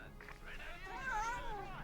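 Basil, a pet cat, gives a drawn-out, wavering meow close by, rising and bending in pitch over a couple of seconds against low background noise.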